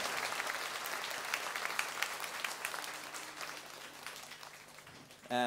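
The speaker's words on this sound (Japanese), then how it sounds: "大きな拍手を。" A crowd at a rock concert on a 2006 tour applauds in a sustained, somewhat distant wash of clapping that tapers slightly before a brief voice cuts in at the end.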